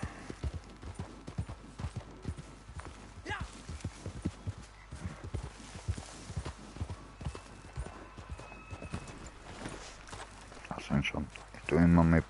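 Horse hooves clip-clopping in a hunting video game, an irregular series of soft, moderately close thuds spread over the stretch, with a louder burst of noise at the very end.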